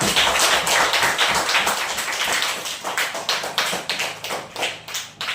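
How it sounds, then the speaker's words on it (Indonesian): A classroom of students clapping together during a teaching-practice lesson in Indonesia: dense, fairly even hand claps for about five seconds, close by, loosening into separate rhythmic bursts toward the end, with no talking over them. "Tepuk tangan."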